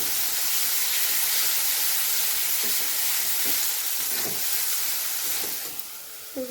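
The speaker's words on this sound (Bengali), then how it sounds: "ওই আলুটা দিয়ে দিলাম, একটু ভাজা ভাজা হবে" Boiled potatoes frying in a pan with spice masala, a loud continuous sizzle and hiss that runs unbroken, with a few faint scraping stirs and a brief clink near the end.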